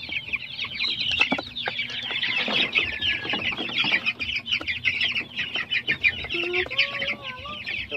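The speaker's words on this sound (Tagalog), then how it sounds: "Malalaki po silang sisiw." Fifteen-day-old chicks peep in a busy flock, their shrill chirps overlapping constantly. Scattered clicks and rustling sound nearby, and a few sliding calls stand out near the end.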